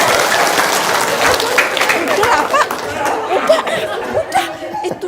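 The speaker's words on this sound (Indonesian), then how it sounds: "Tepuk tangan." Audience applause in a crowded hall during an Indonesian religious talk, steady clapping mixed with chatter and scattered laughter throughout.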